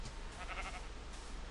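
A Minecraft sheep gives a single short, wavering bleat, faint and slightly distant over a steady background hiss, with no talking.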